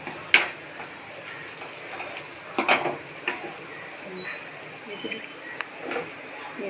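A spatula stirs raw banana poriyal in a cooking pan, giving scattered light clicks and scrapes against the metal, with someone talking over the stirring.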